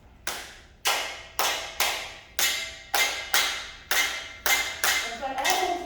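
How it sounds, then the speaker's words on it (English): An audience claps along to the rhythm of a Filipino song: about ten loud, sharp group claps land at a steady, even pulse, close and clear with nothing else heard. "I would love it if you could all clap with us while we do this song."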